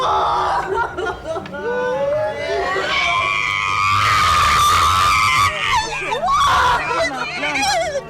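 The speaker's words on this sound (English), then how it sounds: "That's definitely a scream of a mother who's lost a child." A mother screaming, a long high wailing cry that rises and wavers, mixed with other voices chattering and yelling around it, loud and close.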